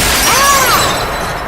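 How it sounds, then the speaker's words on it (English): Glass shattering as a loud sound effect, starting partway into the crash so that a bright, ringing spray of shards fills the whole moment before tapering slightly. "Kind of cut the beginning of that glass shattering off, so it sounded like it fell instead of breaking"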